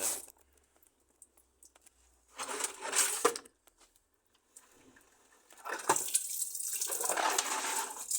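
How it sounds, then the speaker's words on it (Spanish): Water gushes from a tap in two bursts of hissing, splashing flow: a short surge, a pause with only faint sound, then a longer steady stream through the end, close by and without talk. "No podía poner más alta la canilla."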